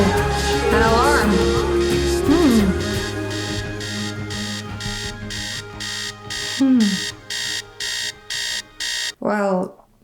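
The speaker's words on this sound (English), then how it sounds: "Oh, an alarm." An alarm in a song sounds in a steady run of evenly spaced electronic beeps, coming in after sung and spoken vocal passages, with a short voice at the end.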